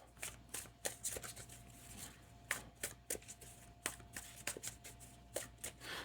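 A deck of football game action cards is shuffled by hand, a quiet run of crisp riffling snaps and soft flicks repeating in quick bursts with no talking.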